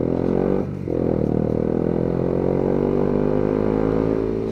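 A Yamaha MT125 motorcycle engine hums steadily and loud, with a brief dip in drive as a smooth gear change goes through before the note picks up and holds again.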